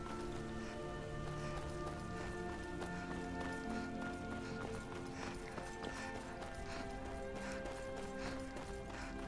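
Horse hooves galloping in the fantasy role-playing game Skyrim, steady rhythmic clip-clop running throughout, set against continuous music.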